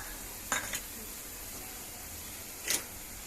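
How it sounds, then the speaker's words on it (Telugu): Ginger garlic paste frying in a pan for chicken frankies, a steady close sizzle with two brief scraping stirs of a spoon against the pan. "అల్లం వెల్లుల్లి పేస్ట్ వేగిపోయిందండి. ఇప్పుడు కారం యాడ్ చేసుకోవాలి."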